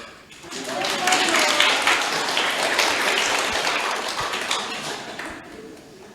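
A room of people at an International Mother Language Day 2025 ceremony in North Maluku, Indonesia, clapping together, a dense wash of applause that swells quickly and fades away after several seconds.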